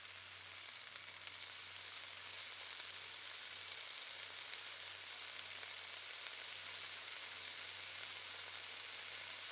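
Garlic frying in a pan in the Cooking Simulator video game, a steady, even sizzle with no breaks, fairly faint, over a low constant hum.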